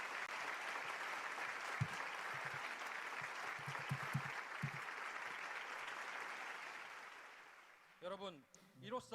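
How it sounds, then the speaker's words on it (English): Audience round of applause at a youth blessing festival, a broad sustained roar of clapping lasting about eight seconds before tapering off as a voice starts speaking. "let us all offer a round of applause to our true Mother."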